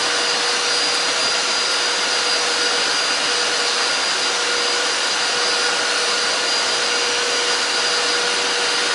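An IFLOOOR 5 Steam 3-in-1 stick vacuum cleaner sucking up soil from a floor, a loud, steady, even whine and rush of airflow that runs unbroken from start to finish, close up with no voices.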